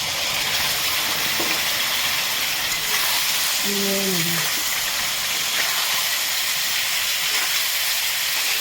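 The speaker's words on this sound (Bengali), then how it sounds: "এখন আমি লোকাল মুরগির মাংসটা দেবো।" Local chicken pieces sizzling in hot spiced oil, a steady broad hiss of frying with no clear breaks, close and even, with a short tonal squeak partway through.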